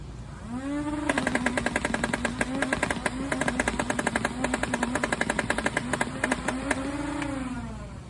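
A Nerf Rival Perseus blaster fires a rapid, continuous stream of rounds, its motor whining up, then a fast steady rattle of shots for several seconds before winding down, loud and close.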